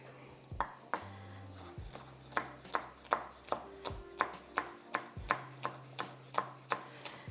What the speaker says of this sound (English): My green onions have not been cut.